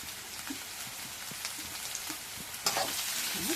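Capsicum and cabbage sizzle steadily in a hot pan for fried rice, a dense, even hiss with small crackles, and a louder burst of frying partway through.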